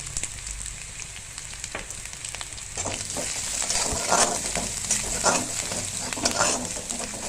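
Ingredients sautéing in a hot pan while cooking matar paneer sizzle steadily, with spatula stirs and scrapes throughout, growing slightly louder and busier halfway through; no voices.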